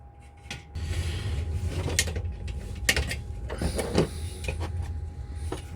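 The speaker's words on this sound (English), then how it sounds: "So I'm kind of using these shears kind of like chin snips." Metal shears snipping copper sheet while making a copper picture frame, a series of short sharp cuts and clicks spread through the clip over a low mechanical background, fairly close.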